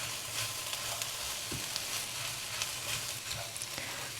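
Vegetables stewing with tomato paste in a pan, a continuous soft sizzle and bubbling with occasional stirring scrapes, close and fairly quiet.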